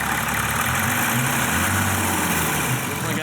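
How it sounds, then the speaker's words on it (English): A BMW twin-turbo diesel bought as a mechanic special runs loud and steady nearby, a rough, continuous engine drone with slight swells as gas is given, and no pause throughout. "Now we're gonna fire this thing up again. All right, give it some gas."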